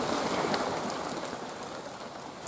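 Rain falls steadily outdoors in a field, a dense, even hiss of drops that stays close and fairly loud with no voices.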